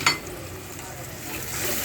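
Spices added to onions frying in a pan for koi fish bhuna: a brief clink at the start, then a soft, continuous sizzle and stirring, fairly quiet.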